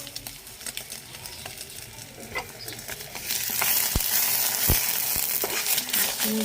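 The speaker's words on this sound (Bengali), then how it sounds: "ডিম ভাজা" Five eggs fry in oil in a kadai, a soft crackle that swells into a loud, dense sizzle halfway through, punctuated by a few sharp spatula knocks.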